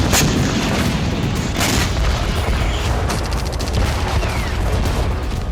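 Explosions and heavy artillery-like booms in wartime Crimea, a dense, loud, continuous rumble with repeated blasts and crackling bursts throughout, no voices.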